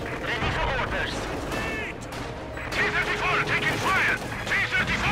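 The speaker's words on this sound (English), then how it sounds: "Rifle grenade firing up." Rifle grenade fire and combat in Company of Heroes 2, a World War II strategy game: a continuous loud battle din with repeated bursts and booms, while a commentator talks over it.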